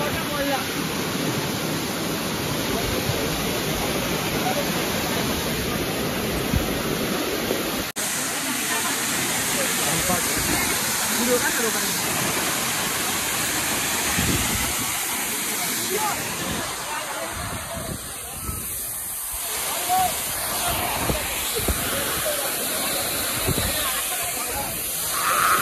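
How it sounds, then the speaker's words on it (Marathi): A large waterfall roars in a steady, loud broadband rush throughout, with voices talking over it now and then. "आईला एवढा मोठा धबधबा"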